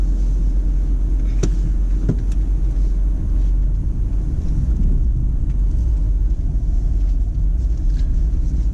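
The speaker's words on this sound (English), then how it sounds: "Let's just bring the car forward and turn left there." A car pulls slowly forward during a driving lesson, its engine and low road rumble droning steadily up close throughout, with a couple of faint clicks near the start.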